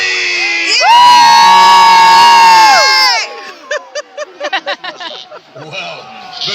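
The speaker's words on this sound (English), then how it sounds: "Yes, you can boo if you wish, or you can cheer. Let's hear it! Make some noise! Normandy!" A crowd at a Battle of Hastings reenactment cheers for Normandy, a loud sustained roar of whoops and shouting followed by scattered individual yells and cheers trailing off.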